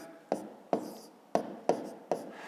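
A pen scratches numbers onto paper in about five short strokes, each beginning with a sharp tap and fading into a brief scrape. The writing is close by and quiet, with no voice over it.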